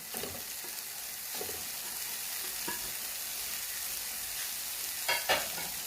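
Vegetables for chicken spring rolls sizzle steadily in a pan, a constant frying hiss broken by a few scraping stirs near the end, close and alone with no talking.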